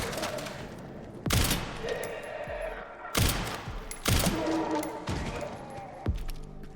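Pistol shots ring out in Resident Evil Requiem, four or five sharp, loud cracks spaced about a second apart, with clattering and thuds between them and no talk.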